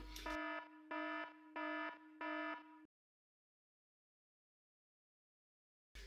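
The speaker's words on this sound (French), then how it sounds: "voilà le dernier indice avec cette alarme qui va signaler le dernier indice" A loud electronic alarm buzzer sounds four evenly spaced harsh tones, each lasting about half a second, then cuts to silence before a brief burst at the end.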